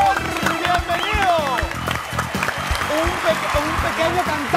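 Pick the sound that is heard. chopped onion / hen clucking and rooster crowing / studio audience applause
studio audience applause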